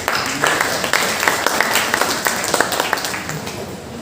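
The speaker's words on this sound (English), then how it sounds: "A big round of applause for all of us, please" An audience at a college orientation programme applauds, a crowded patter of clapping with scattered sharper claps standing out over a steady noisy bed.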